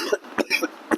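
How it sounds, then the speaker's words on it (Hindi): A teacher in an online chemistry class coughs several times in quick, short, dry bursts close to the microphone, with no speech in between. "आपको मेरी खांसी को बर्दाश्त करना पड़ेगा"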